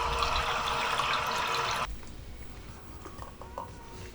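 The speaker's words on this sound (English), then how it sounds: "Water tap, ultra filtered water." Hotel room water tap running ultra filtered water, a steady close rush of flowing water that stops partway, followed by faint drips and small handling sounds.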